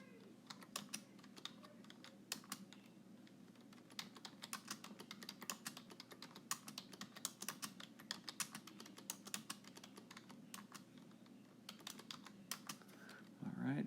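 Keys on a TI-84 graphing calculator are tapped in quick, steady succession as ten numbers are entered, each press a faint, crisp click in a quiet room.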